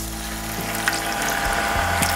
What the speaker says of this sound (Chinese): 然后呢再加入一碗昨天晚上老妈亲手熬的鸡汤